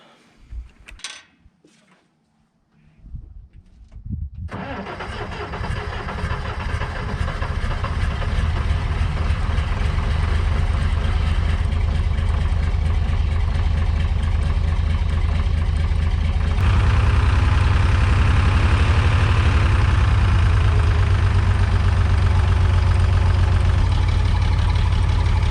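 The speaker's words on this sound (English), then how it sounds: "The engine's not running right." A faltering crane truck engine cranks and catches, then settles into a loud, steady low rumbling idle that grows heavier and stronger partway through, with no talking.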